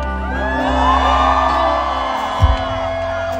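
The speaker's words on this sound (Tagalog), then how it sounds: "isa pang hiyawan sa ngayong gabi" Concert audience at a Lyka Estrella show shouting and whooping together, a steady loud crowd roar with a brief thump near the end.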